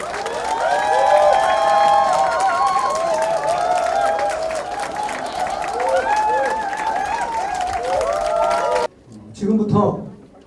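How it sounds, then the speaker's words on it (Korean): A crowd at a Seoul mayoral candidate's meeting with disability groups claps and cheers loudly as the candidate enters, amid overlapping voices and shouts. The sound cuts off abruptly near the end, followed by brief speech. "여러분 큰 박수 부탁드리겠습니다."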